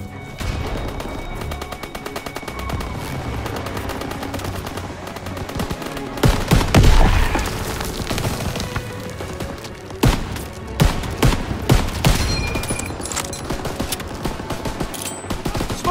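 Sustained machine gun bursts from Call of Duty: WWII's Operation Cobra, fired from an MG position in a barn, with dense overlapping fire and occasional heavier blasts that spike louder around the middle and near the end, under intermittent shouted voices.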